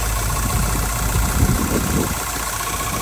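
A 1969 Ford Bronco engine idles with a steady, even low rumble and a constant mechanical drone, close by and with no talking over it.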